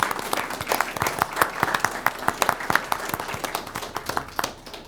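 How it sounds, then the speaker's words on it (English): A small group applauds at a Port of Seattle Commission regular meeting, steady scattered clapping from a handful of people that stays fairly even for about five seconds, close and moderately loud. "I think this deserves a round of applause if we can."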